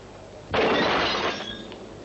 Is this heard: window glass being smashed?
yes